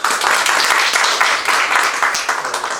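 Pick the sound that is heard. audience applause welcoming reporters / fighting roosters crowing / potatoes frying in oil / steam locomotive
audience applause welcoming reporters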